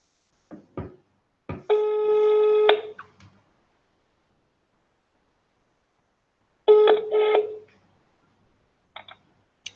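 A telephone line tries to reconnect a call, giving two separate bursts of buzzing electronic tone about five seconds apart, with a few clicks and short bleeps around them and long silences in between.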